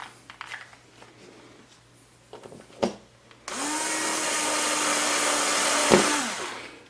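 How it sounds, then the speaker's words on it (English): A drill bores a 1/8 inch hole through a box quad frame, its steady whine starting abruptly after a few light handling clicks and running loud and continuous for about three seconds before winding down. "We hold the adjustment head down and we'll drill through this area."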